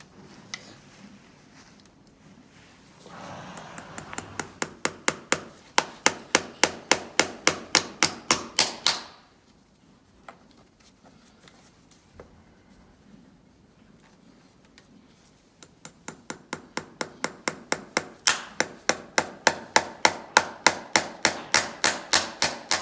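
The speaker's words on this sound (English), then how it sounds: "It's quite hard material to nail onto. You sometimes find bending a few nails." A farrier hammers nails into a hard hoof cast, bursts of rapid, even, sharp metallic taps, close and clear, separated by a quieter pause with faint scraping, no talk.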